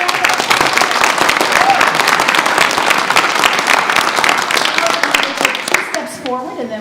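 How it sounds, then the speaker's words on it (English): A crowd at a school board meeting breaks into loud, sustained applause for a cross country state championship team, dense clapping that fades near the end as voices take over. "Let's give everyone a round of applause."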